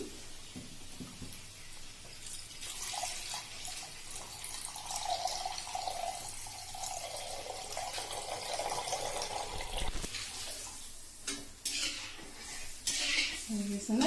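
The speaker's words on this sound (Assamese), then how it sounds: "এতিয়া মই ইয়াত অলপ আৰু পানী দিম" Water pours into a pot of fish curry with raw turmeric, a splashing, gurgling stream that rises and falls amid clinks of the pot and stirring, close by.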